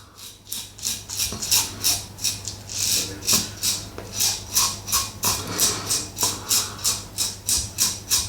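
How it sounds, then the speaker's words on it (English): A REX Page safety razor with a Gillette Nacet blade scraping steadily over moustache stubble, a close, rhythmic series of short rasping strokes repeating evenly throughout with a low hum beneath. "Seems to be scraping for ages there on the moustache."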